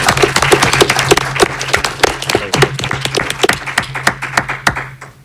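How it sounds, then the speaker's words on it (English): Applause from the audience at a school board meeting, honoring the Board of School Trustees: a room of people clapping steadily and fairly loudly for several seconds, with sharp individual claps standing out before it thins toward the end. "join me in a round of applause to showing our appreciation for our Board of School Trustees"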